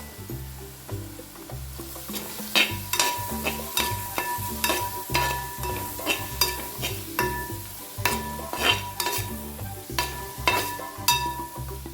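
Coriander powder being stirred into frying chicken masala, rhythmic scraping and clanking of a spoon against the pan every second or so over a steady sizzle, close up and without speech.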